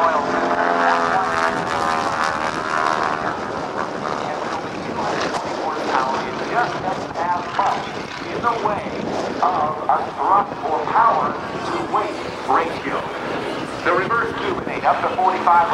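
A roughly 3,000-pound Stearman biplane without an inverted fuel and oil system drones through aerobatics at the 2008 NAS Oceana airshow, its propeller engine rising and falling steadily under a continuous announcer's commentary.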